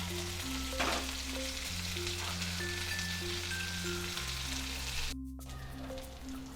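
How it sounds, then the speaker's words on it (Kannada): Rava-coated rohu fish pieces fry crisply in a pan, giving a continuous bright sizzle and crackle with a steady low tonal hum running underneath and no talking. "ಒಳ್ಳೆ ಫ್ರೈ ಆಗಲಿ ಇನ್ನೊಂದು ಬದಿ ಸಹ."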